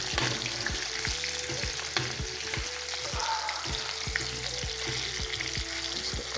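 Onions frying in a pan: a loud, continuous sizzling hiss with a regular series of soft knocking strokes from stirring, close up and with no talk.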